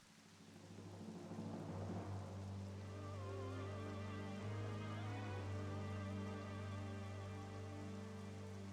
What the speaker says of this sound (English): There's now crystal dust raining on top of us